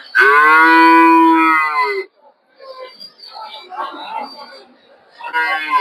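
A native cow at a rural Bangladeshi cattle market before Eid sacrifice lets out a loud, long low moo near the start, then market chatter and voices follow before a second moo begins at the end.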